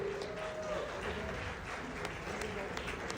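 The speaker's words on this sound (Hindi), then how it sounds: "जोरदार तालियां।" Audience applause at an awards ceremony for the direct selling industry, a steady sustained clapping from a crowd heard at moderate distance, fairly even throughout.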